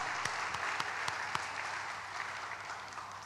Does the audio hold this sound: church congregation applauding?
yes